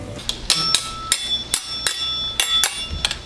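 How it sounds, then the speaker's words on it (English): A dinner bell on a houseboat is struck repeatedly in a quick, slightly irregular rhythm, each clang bright and ringing, close and fairly loud. "That's a good dinner bell."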